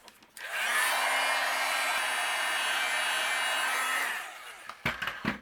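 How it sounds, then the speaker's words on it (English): A heat gun blows a steady, loud roaring hiss for about four seconds while it melts embossing powder on cardstock for a handmade Christmas card. The blast then cuts off and a few brief handling noises follow. "I'll just use my heat gun and we will melt this embossing powder"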